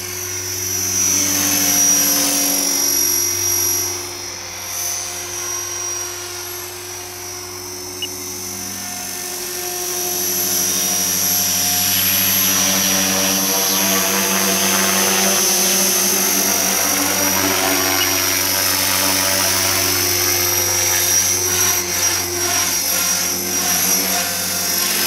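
An Align T-Rex 470LP radio-controlled helicopter whines continuously as it flies, its high rotor and motor pitch shifting with throttle over a long, steady, fairly loud stretch, with no talking.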